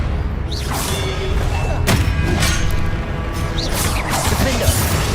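Expelliarmus spell effects in Hogwarts Legacy combat: loud sharp whooshing bursts and thuds over dense continuous game action noise, with several distinct magical strikes across the span.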